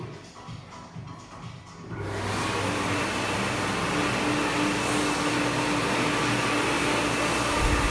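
A hand dryer in a cinema washroom kicks on after two seconds of quiet room murmur and then blows in a steady loud whooshing roar for the rest of the clip.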